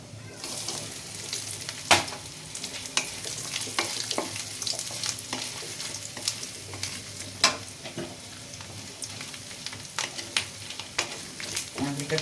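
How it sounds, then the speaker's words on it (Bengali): Grated coconut fries in a pan and is stirred repeatedly, giving a continuous close sizzle with irregular sharp scrapes and clinks of the utensil, with no talking. "একটু নারকেলটা লাল লাল করে ভেজে নিচ্ছি"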